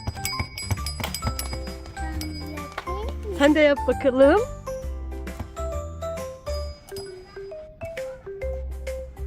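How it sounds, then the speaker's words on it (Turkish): A small toy bell rings in repeated bright dings and clinks, while an adult and someone talk over it. "Aa bir kere bak bu zil. Zil çalıyor."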